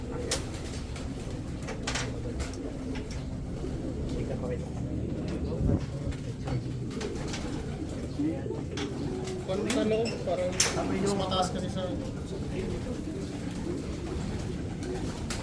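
Pigeons coo repeatedly throughout in a busy racing-pigeon loft, with people talking over them and occasional clatter and bird flutter.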